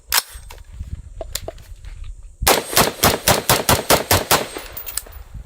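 A new Brownells BRN 16 Retro Series M16-style rifle fires a few sharp, isolated shots, then a rapid, evenly spaced string of about ten loud, close cracks.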